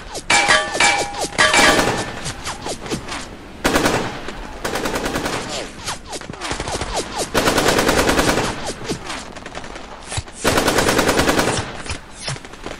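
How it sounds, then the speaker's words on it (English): Loud, rapid bursts of automatic gunfire in a sustained barrage, with metallic clangs and pings between volleys, close and intense, no voices. "they were met by a barrage of gunfire."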